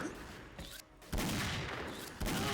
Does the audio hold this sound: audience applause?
no